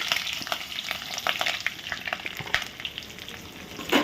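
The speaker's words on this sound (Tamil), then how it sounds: "போட்டு ஒரு கிண்டு கிண்டி இது நல்லா வசக்கணும்" Big onions frying with green chilies and whole spices for a home-style chicken curry, a bright continuous sizzle broken by repeated scraping stirs of a spoon against the pan, close and loud with no talk.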